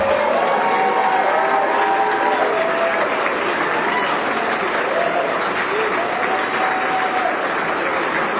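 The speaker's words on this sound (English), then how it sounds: "Let's give them a round of applause." A crowd at an election night event applauds and cheers, a dense wash of clapping with occasional shouts and whoops rising above it, sustained at a steady loud level.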